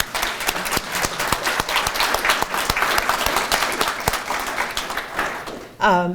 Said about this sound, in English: So if you will, give them a round of applause.